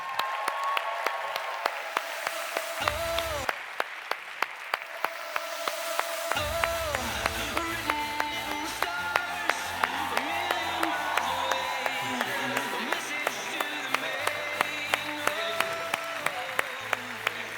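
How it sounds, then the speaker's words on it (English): A large audience at a One Young World social business event applauds and cheers for Professor Muhammad Yunus, with sustained dense clapping, whoops and crowd noise continuing under music for a long stretch. "A huge round of applause for Professor Mohammed Yunus"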